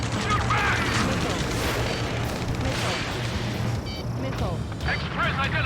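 Heavy combat gunfire and booming blasts from the Ace Combat 7 video game pound without pause, loud and dense, with shouting voices mixed in.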